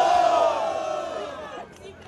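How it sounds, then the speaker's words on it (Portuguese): Crowd noise from the audience at a student rap battle semifinal, a loud burst of voices and shouts that starts strong and gradually fades over about two seconds. "barulhos pra quem gostou das rimas de Kaiori"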